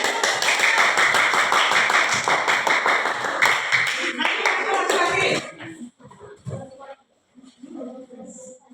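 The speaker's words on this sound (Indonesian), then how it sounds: "siap, beri tepuk tangan." A group claps together for about five seconds in a lively, dense burst of hand claps that then stops abruptly, leaving a few scattered taps and quiet voices in the room.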